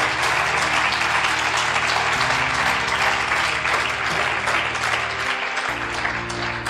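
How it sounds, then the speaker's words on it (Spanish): A church congregation applauds the Lord during a Spanish-language sermon, a steady, dense wash of clapping that holds loud for the whole stretch, with musical tones sustained underneath. "Dale un aplauso al Señor."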